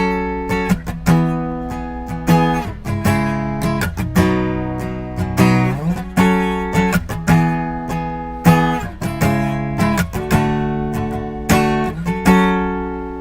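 Guitar chord progression played on just three strings with the other strings muted by the fretting fingers, clean plucked chords ringing in a steady rhythm with sharp attacks and short decays, close and alone.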